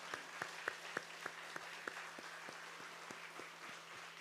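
A few scattered hand claps in a church service, faint and sparse, tapping out roughly a dozen separate slaps over a low steady hum rather than full crowd applause.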